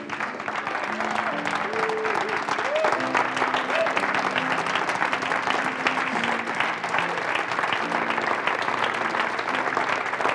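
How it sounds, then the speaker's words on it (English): A church congregation claps together in a steady, dense wash of applause, with music and sung or sustained tones running underneath, continuing evenly throughout. "Come on, clap real big, praise God."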